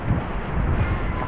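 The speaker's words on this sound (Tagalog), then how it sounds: "Lakas ng hangin" Strong wind from Typhoon Uwan during flooding, a loud, low rumbling roar buffeting the microphone with no break.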